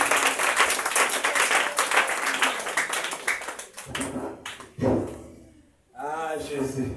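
A church congregation applauds for Jesus with dense, steady clapping that fades out, followed by a voice speaking loudly over the room.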